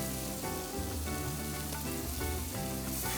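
Fish coated in blackened seasoning sears in a hot pan with a steady, dense sizzle. The sizzle sounds fairly close and stays constant all the way through, with no voices.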